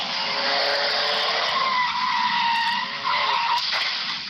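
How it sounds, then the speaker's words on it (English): Car crash on a Northeast Grand Rapids neighborhood corner, with tires skidding and squealing loudly and continuously for about four seconds, a sustained screech close by with no voices. "He's recorded crash after crash"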